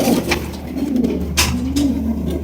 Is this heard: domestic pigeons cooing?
yes